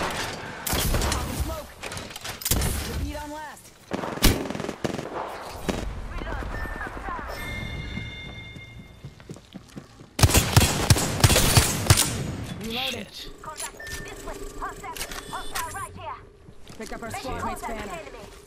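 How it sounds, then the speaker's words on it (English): Gunfire in the battle-royale shooter Apex Legends: dense bursts of rapid weapon shots and crackling fire come in waves, loudest in a sharp volley midway, mixed with game effects and heard under frequent voice chat. "Listen up, I'm getting shot at."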